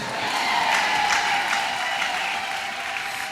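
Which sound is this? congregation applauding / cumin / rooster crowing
congregation applauding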